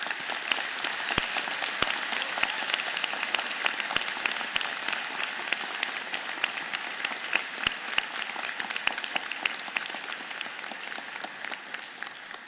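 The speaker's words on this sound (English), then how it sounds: "thanking them with a vigorous round of applause" An audience at a university graduation convocation gives a sustained round of applause, steady and fairly distant, with individual claps popping out of the even wash throughout.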